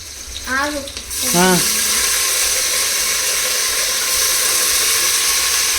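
A brief voice speaks before a tap runs over chicken being washed, a steady, loud hiss of flowing water that continues to the end.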